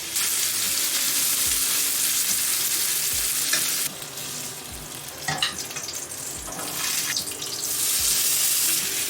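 Pork belly sizzles steadily in a hot pan, with oil crackling and spattering close by. A few soft thuds and scraping stirs break through, and the sizzle swells louder toward the end. No one speaks.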